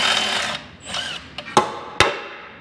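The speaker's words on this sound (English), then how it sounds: "Let's disassemble this thing and see what you got." A power tool fitted with an 8mm socket removes bolts while a small off-road recovery vehicle is taken apart: a close, loud whirring run that tails off with a falling whine, then several sharp clanks.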